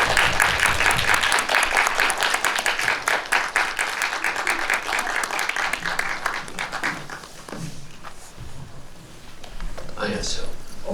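An audience in a screening hall breaks into sustained applause to welcome director Isao Yukisada, with dense clapping that gradually thins and fades, followed by scattered claps and some voices near the end.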